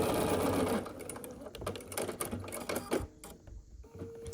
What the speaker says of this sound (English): So I'm going to take that away and just turn these and start sewing these together.